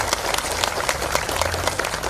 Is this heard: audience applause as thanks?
yes